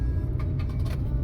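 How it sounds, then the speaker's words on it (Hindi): Dense city road traffic in Vizag, a constant low rumble of car and bus engines with brief passing swells, heard up close from within the flow of vehicles. "और काफ़ी ज़्यादा ट्रैफिक भी है।"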